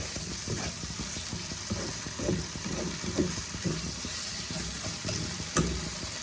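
Spices sautéing in oil for Bengali shol fish kalia: a steady close sizzle with repeated scraping stir strokes roughly every half second, spatula knocks against the pan, no voices.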